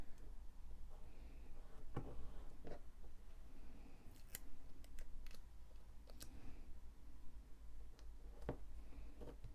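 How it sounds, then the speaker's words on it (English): Scissors trimming coloured paper for an iris folding butterfly card: a handful of crisp, quiet snips spread out over several seconds against a soft background hiss. "Trim it to size to make sure it covers the aperture."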